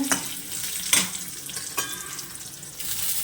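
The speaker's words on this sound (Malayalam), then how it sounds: "ഞാനിതിൽ കടുക് മൂപ്പിച്ചിടുന്നത് കേട്ടോ" Mustard seeds crackle and splutter in hot oil with shallots, garlic and curry leaves for a cucumber and mango curry, a steady close sizzle broken by sharp popping bursts and stirring, with no talking.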